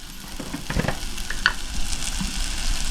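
Turmeric and spices dropped into hot tempering oil for a Konkan mango shrimp curry, a close, steady sizzle with a few brief stirring scrapes, no voices.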